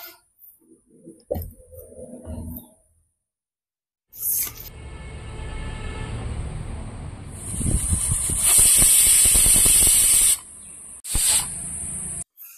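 A pressure cooker of mutton curry on a stove lets out a loud hissing steam whistle that builds and holds for several seconds, then cuts off before a shorter burst, after quieter bubbling and clatter.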